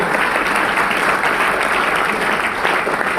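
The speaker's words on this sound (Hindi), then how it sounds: "बजा दीजिए अपने लिए तालियां, हाथ से बजा दीजिए" Loud, dense clapping from a large audience at a motivational business event, sustained and even throughout without pause.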